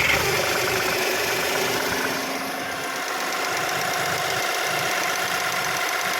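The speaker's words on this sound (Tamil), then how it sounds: "வண்டி ஸ்டார்ட் பண்ணி கொஞ்சம் நேரம் ஓட விடுவோம்." A Volkswagen Polo engine, just repaired after a water pump fix, runs at a steady idle with a continuous mechanical hum and light rhythmic ticking, close up and without speech.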